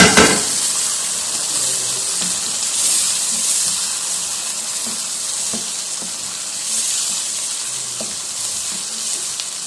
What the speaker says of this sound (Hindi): इनकी हम इसके अंदर करेंगे भुनाई।